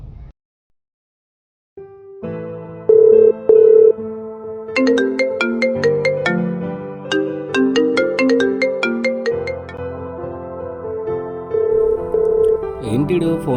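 A mobile phone's melodic ringtone plays on for over ten seconds, a bright, looping tune of repeated notes and chords that rings out unanswered with no one picking up.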